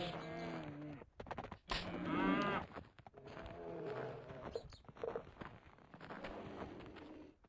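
Cow in the Survivalcraft 2 video game lowing repeatedly in loud, drawn-out moos, close by, amid game sounds and bits of movement.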